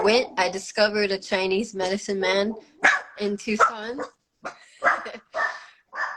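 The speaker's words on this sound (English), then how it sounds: "Dog alarm." A dog barks repeatedly in a home while someone keeps talking over it, the yelps and bow-wows mixing with the voice and ending in a few scattered barks.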